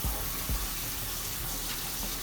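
Water streams from a newly installed pull-out kitchen sink faucet with noticeable pressure, a steady close hiss with a few low knocks near the start.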